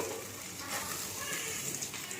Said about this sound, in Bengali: মাছগুলো আমার সব ভাজা হয়ে যাচ্ছে।